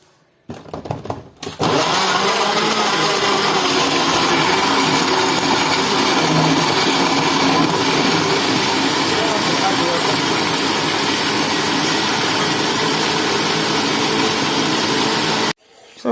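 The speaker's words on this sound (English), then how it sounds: "I am now blending the tomato." A kitchen blender purees tomatoes for a Nigerian chicken and fish stew, starting with a few short bursts before a loud, unbroken motor whir that runs for about fourteen seconds and then cuts off.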